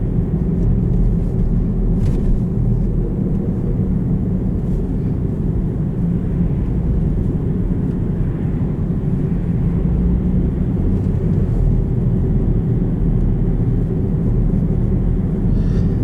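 Studded tires humming on the road under a 2016 Volvo S60 Cross Country, a steady low droning rumble inside the cabin that stays even and loud throughout with no talk.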